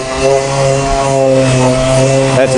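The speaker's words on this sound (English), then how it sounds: "I'll show you when we go to sand it with the sandpaper and the DA." A dual-action sander works a routed aluminum part in a boat shop, giving a steady, loud, close motor whine with a continuous gritty abrasive rasp.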